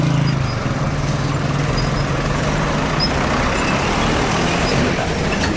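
Heavy trucks rumble steadily past on the BR 259 highway through the urban stretch of Aimorés, Minas Gerais, a loud continuous roar of engines and tires with a low droning tone early on and no talk.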